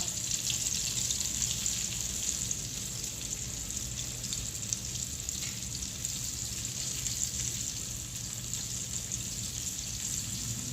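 Battered chicken frying in hot oil gives a steady, even sizzle and crackle that holds close and constant for the whole stretch, with no one talking over it.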